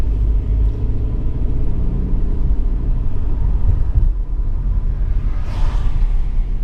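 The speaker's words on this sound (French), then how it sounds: "Oh, elle accélère toute seule, regarde, je touche plus rien" A 2020 Mercedes C-Class accelerates by itself, heard from inside the cabin as a loud, continuous low engine rumble and road noise swelling slightly toward the end.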